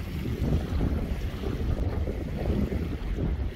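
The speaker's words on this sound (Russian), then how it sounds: "Ветерок поднялся." Steady wind sweeping across the Chkalovsky reservoir near Karaganda on a hot summer day, roaring continuously into the microphone over faint lapping water, with no voices.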